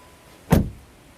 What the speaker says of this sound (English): Then the door closing sound